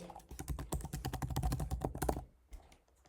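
Typing a password on a computer keyboard: a quick, steady run of close key clicks lasting about two seconds, then quiet with a few faint taps.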